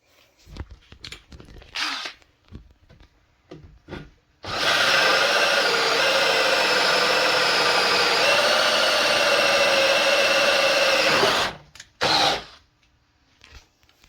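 A power drill whines steadily for about seven seconds as it bores through wood, with handling knocks and rubbing before and after, close by.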